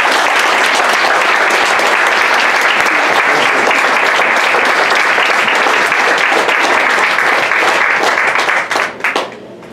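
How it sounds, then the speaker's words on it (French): An audience applauds a woman writer at a book launch event with dense, steady clapping that holds loud for about nine seconds, then thins out and fades at the end. "Alors, on applaudit très fort la belle Annabelle."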